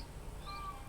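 A short, faint cat meow, a single thin rising call over a low background hum.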